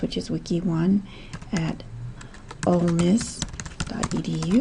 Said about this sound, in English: I begin by typing in the address